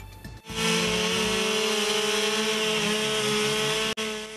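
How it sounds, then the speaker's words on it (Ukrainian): Petrol chainsaws roar loudly and continuously at an international wood carving festival's speed-carving contest, several saws cutting wood at once with a steady high-pitched whine after a brief quiet start. "Гудуть бензопили, довкола летять тріски"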